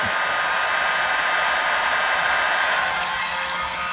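A heat gun blows hot air during an LED light install in a 2005 American Eagle RV, making a loud, steady, close whooshing hiss that holds evenly throughout without talk.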